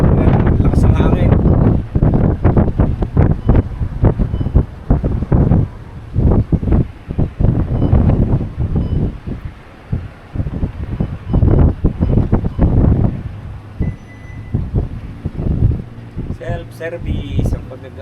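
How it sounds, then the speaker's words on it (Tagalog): Strong wind buffets the microphone at a self-service gas station in heavy, irregular gusts, loud and close, with a person talking throughout. "Self-service, lakas ng hangin."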